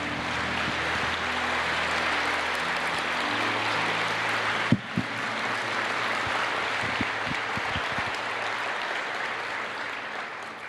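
Steady, sustained applause from a church congregation fills the whole stretch, dense and even throughout, with a few brief sharp knocks partway through and no talking over it.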